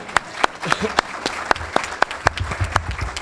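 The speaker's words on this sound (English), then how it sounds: "Let's give him a round of applause." Sparse applause from a small audience at a Kiwanis gathering, a handful of separate sharp claps spread unevenly over a few seconds, fairly close, with a soft hum of room noise underneath.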